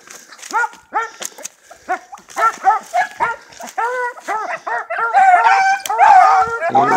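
Five-month-old beagle street puppy baying while chasing a rabbit, rapid high yelping bays in quick bursts that grow more continuous, with other beagle voices joining toward the end, outdoors.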